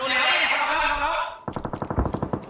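Gunfire in the battle-royale game PUBG during a PUBG Thailand Series 2020 tournament match: a voice talks first, then a rapid, close burst of automatic weapon shots rattles out in quick succession.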